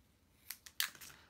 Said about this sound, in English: And I'm going to cut them at a slant, super, super easy.